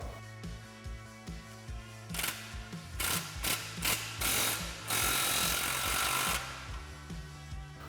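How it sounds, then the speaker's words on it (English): Ratchet with a 15mm socket snugging an exhaust clamp on a Ford F-150 tailpipe, a series of quick clicking strokes, close and clear, with a faster burst of rapid clicks midway. "And we'll snug that up using our 15mm socket."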